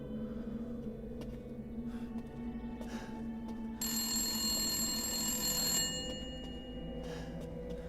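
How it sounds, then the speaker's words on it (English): A telephone rings in Resident Evil Village's House Beneviento, a faint, eerie hum first, then a loud, bright ring burst for about two seconds over a dark ambient drone. "I expected the phone the camera centred on to ring immediately rather than just after walking past it"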